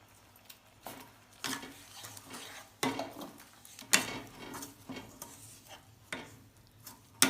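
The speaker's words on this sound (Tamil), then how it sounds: "நல்லா கிளறுங்க. கையில் சட்டியில் ஒட்டாத அளவுக்கு நம்ம கிளறிக்கிட்டே இருக்கணும்." A coconut burfi mixture is stirred in a pan, giving intermittent scraping and knocking strokes of a spoon against the pan at an uneven rhythm, close and moderately loud with no talking.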